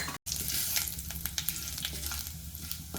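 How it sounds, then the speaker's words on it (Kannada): Mustard seeds, urad dal and cumin splutter in hot oil for a okra stir-fry, a close continuous sizzle with scattered crackling pops. "ಸಾಸಿವೆ ಜೀರಿಗೆ ಸಿಡಿದ್ರೇ ಫ್ಲೇವರ್ ಚೆನ್ನಾಗಿ ಬರೋದು"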